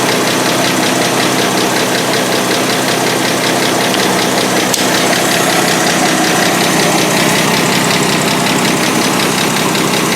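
A car engine idles steadily after being started, its ticking, knocking rumble loud and close and continuous throughout, with no talking.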